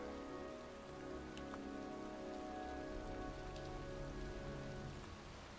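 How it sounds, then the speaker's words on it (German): Steady rain falls in the video game Heavy Rain, a dense, even hiss of drops on surfaces with a faint low hum beneath, continuous and unbroken throughout. "Es ist kalt, es regnet, ich bin draußen und völlig durchgeweicht."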